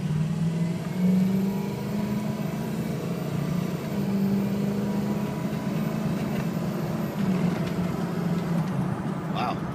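A 2005 Ford F250 diesel 4x4 engine runs at a steady idle, a constant low drone and rumble held evenly throughout.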